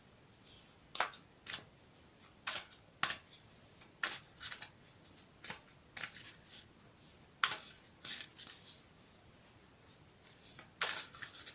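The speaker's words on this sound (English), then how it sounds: "I've already pre-shuffled them now, but I'll shuffle them again for you on camera." A deck of cards is shuffled up close in a series of crisp, quick riffling bursts, separated by short quiet pauses, with no talking.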